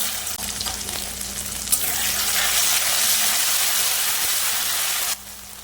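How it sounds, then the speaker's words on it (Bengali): Bay leaves, panch phoron and potatoes fry in hot oil for a Bengali banana-flower dish, giving a loud, steady, close sizzle that holds for about five seconds before cutting off abruptly. "তেলের উপর দিয়ে দেবো তেজপাতা আর পাঁচফোড়ন। এবার আলুটা দিয়ে দেবো।"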